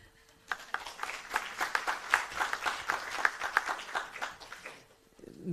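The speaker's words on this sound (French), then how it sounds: "Mais on peut les applaudir." Applause from an audience at a round table on academic freedom and politics rises after a brief pause, holds as a dense, even patter of many hands for about four seconds, then tapers off.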